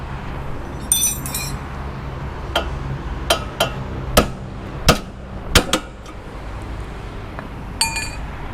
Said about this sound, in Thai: ใช้ค้อนตีออกมาเลยนะครับท่านผู้ชม